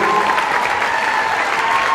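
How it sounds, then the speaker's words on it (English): Loud, continuous applause from a high school girls basketball crowd honouring senior players, dense clapping sustained for the whole stretch with a faint crowd murmur. "If we can give our seniors one more round of applause for their great achievements throughout their high school careers."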